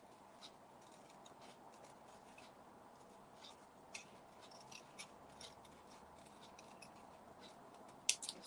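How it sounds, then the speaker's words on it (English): Scissors fussy cutting a small card piece, a series of faint, soft snips and light rubbing sounds spread unevenly over a quiet background, close to the listener. "I'm just going to quickly fussy cut this."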